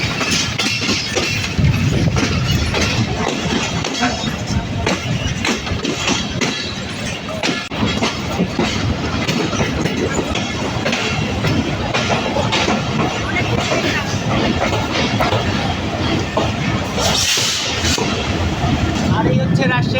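An EMD diesel locomotive and train at the Rajshahi wash pit and station, a steady loud rumble of rolling stock with wheel clatter throughout, a voice talking over it.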